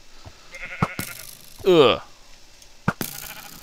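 Sheep bleat in the Minecraft video game, one wavering bleat rising clearly between a person's brief grunts and game clicks and thuds.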